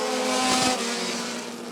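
Race cars roar away together at the green flag of a Bandit Dash at Rockford Speedway. The engine noise is loud, dense and steady throughout, with a slight swell near the start.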